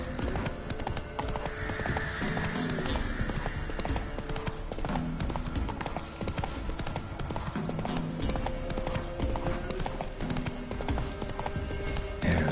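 Hooves clip-clop at a steady gallop rhythm as a horse runs through The Witcher 3, loud and constant, with occasional whinnies and game music layered beneath the hoofbeats.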